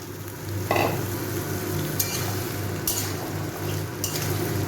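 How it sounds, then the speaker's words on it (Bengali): Cut potatoes sizzle steadily in hot oil in a pan for a plain-style white potato curry, with a few clinks of a spatula stirring against the pan over the constant frying hiss. "আলুটাও একটু ভালো করে ভেজে নেব।"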